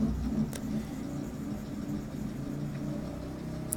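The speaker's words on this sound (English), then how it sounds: "If you can hear that, someone's riding a motorcycle outside." A motorcycle ridden outside passes at a distance, a low continuous engine rumble heard faintly from indoors, with a couple of small nearby clicks.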